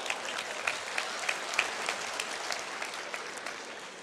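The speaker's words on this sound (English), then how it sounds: "Give yourselves a round of applause" An audience applauding itself at a motivational speaker's event, a fairly distant, moderate round of clapping with a few sharper individual claps standing out, fading slightly toward the end.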